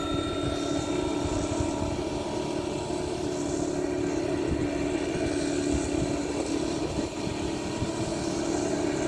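A two-stroke petrol engine sprayer spreading rice seed and fertilizer over a paddy field, a loud, steady buzzing engine drone with a whooshing blower roar, continuous and close with no pauses.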